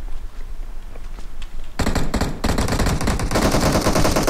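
Sustained automatic gunfire in a PUBG Mobile match, starting after a quieter stretch and then hammering on loud and close in dense rapid bursts that fill the rest of the moment.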